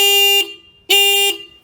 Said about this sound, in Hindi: सबसे पहले आपको हॉर्न सुना देता हूं, दोनों मोटरसाइकिल का हॉर्न सुनिए।